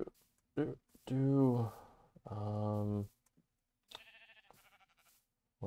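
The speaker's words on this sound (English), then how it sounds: "Lots of sheep here." Sheep in Minecraft bleat in a few wavering, nasal calls, loud and close, separated by short silences, with a brief voice in the pauses.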